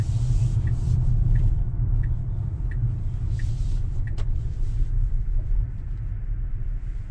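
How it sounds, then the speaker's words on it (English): Tesla driving through a town centre heard from inside the cabin, a steady low road rumble with faint regular ticks overhead, no talking. "So we're just driving through the center of town now to try and get this bit of footage."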